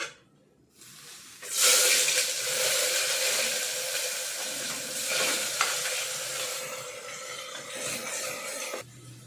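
After a quiet moment, hot oil bursts into a loud, steady sizzle with crackling pops of mustard seeds frying for a Tamil curry, continuing strongly before cutting off abruptly.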